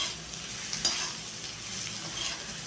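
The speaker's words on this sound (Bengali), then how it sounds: "এবারে চিংড়ি মাছটা দিয়ে অল্প নাড়ব।" Prawns fry with browned onions in a pan, a soft, quiet sizzle with light stirring and one small clink of a utensil near the start.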